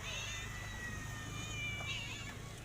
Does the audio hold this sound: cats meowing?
yes